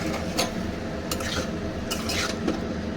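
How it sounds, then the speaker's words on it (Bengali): Prawns and kochur loti (taro stolons) being stirred in a pan, a steady scraping and stirring texture with a few sharp clinks of utensil against the pan, cooking down to dry with no water added. "এই চিংড়ি মাছটার জুসটা টানা পর্যন্তই আমি এটাকে নাড়বো।"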